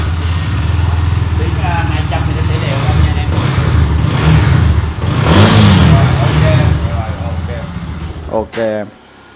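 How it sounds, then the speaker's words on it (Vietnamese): Honda CBR motorcycle engine revving at close range, a steady rumbling drone with surging throttle blips and a final sharp rev before cutting off, under a voice. "cho anh em nghe tiếng máy con GBX."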